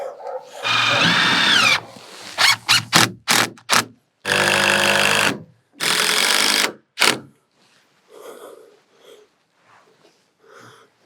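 A power drill drives screws into a roof in a series of whining bursts: one long run, several short rapid pulses, then two more sustained runs, followed by faint background sounds.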